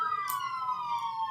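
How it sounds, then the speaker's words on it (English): Police sirens wail in a state trooper emergency-response video game, a steady, loud electronic tone with layered harmonics that slowly descend in pitch, running continuously throughout without talk. "Oh my god, these sirens."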